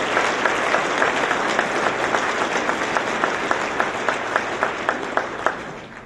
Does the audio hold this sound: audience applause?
yes